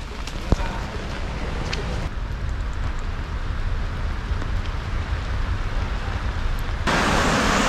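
Rain falling on a city street in Wuhan at night, a constant hiss of downpour that thickens toward the end, with a sharp knock early on.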